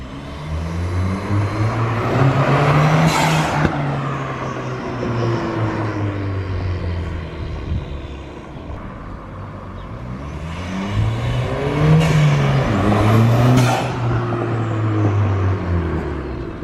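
Ford Fiesta ST180 fitted with a GFB DV+ diverter valve, engine revving and accelerating in two loud surges, each ending in a sharp whooshing release as the throttle lifts, with steady road and engine drone between.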